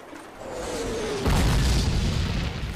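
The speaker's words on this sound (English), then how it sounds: "I was trying to look at the pretty explosions." Call of Duty tank-factory battle in Warsaw: a shell whistles in, then a heavy booming explosion bursts close and loud before fading into a rumbling tail.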